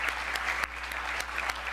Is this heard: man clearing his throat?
no